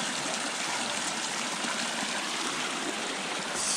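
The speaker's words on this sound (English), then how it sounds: "So, this is where the water comes from, inside the mountain." A mountain stream gushes out from inside the rock, a steady, close, bright rushing and splashing of water that continues without pause and with no voices.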